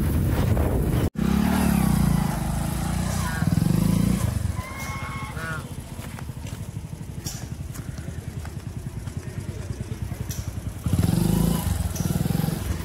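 A vehicle bumps along a badly potholed road, engine droning and rattling with repeated jolts and knocks, and a voice speaks over the motor at moments.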